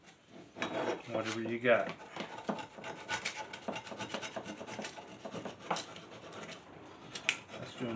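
A hand file rasps against a lawn mower blade being sharpened, in a series of quick, uneven scraping strokes close by, with a brief spoken remark near the start.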